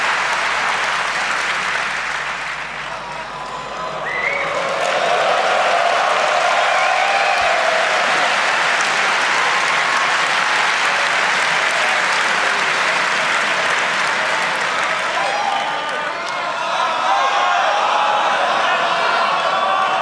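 Conference audience applauding at a hacker congress year-in-review talk, a sustained wash of many hands clapping with scattered whoops, swelling after a few seconds and holding loud and steady.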